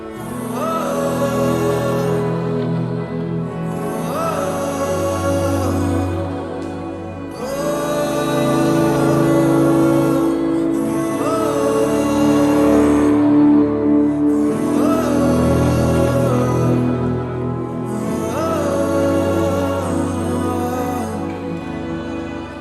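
An electric guitar plays a slow interlude through a Line 6 HX Stomp with a Prince of Tone blues-breaker overdrive engaged. Sustained chords swell up gently from silence and fade, in repeated waves of a few seconds each.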